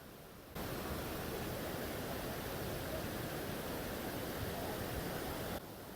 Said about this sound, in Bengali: সাংঘাতিক নদীর স্রোত, সাংঘাতিক।